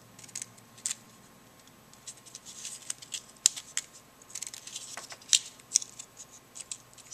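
Scissors snip through paper strips in a quick, irregular series of crisp cuts and rustles, close up and fairly quiet, with short pauses between bursts.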